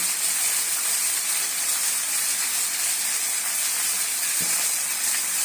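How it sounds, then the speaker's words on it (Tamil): Tomatoes sautéing in a pan for chicken kuzhambu, giving a constant bright sizzling hiss of frying at close range with no talk, with one faint knock near the end. "தக்காளியை போட்டு வதக்கிக்கலாம்"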